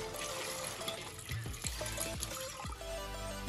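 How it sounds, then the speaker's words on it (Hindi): Water trickles and pours as soaked lentils are rinsed in a strainer while making dal and soybean kofta, a soft, continuous splashing flow with a few brief drips, fairly faint and with no talking. "दाल का पानी गिरा देंगे, दाल को स्ट्रेनर में छान लेंगे और 2-3 पानी और धो लेंगे"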